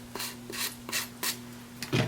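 Rhythmic rasping strokes of a hand file on wood, about six even passes, close and alone with a low hum beneath.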